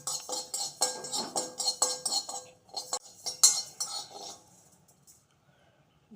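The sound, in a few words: dry roasting rice in a pan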